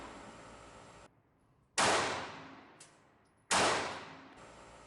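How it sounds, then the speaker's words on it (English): Two loud, sharp pistol shots from a Ruger LCP MAX fired at a target, each cracking bang followed by a long decaying ring, spaced about two seconds apart with quiet between. "I couldn't even tell where my shots hit"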